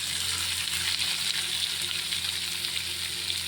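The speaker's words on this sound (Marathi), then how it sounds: "हे आता फ्राय करून घेणार आहे, म्हणजे कलसून घेणार आहे." Onion frying in a pan for a Nagpur-style dal-onion dish, a steady dense sizzle and crackle of hot oil that holds evenly throughout, close and fairly loud with no talking.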